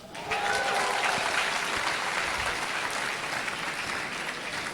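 A large audience at a university graduation congregation ceremony breaks into sustained applause, a broad, steady wash of many hands clapping that swells quickly and holds loud throughout.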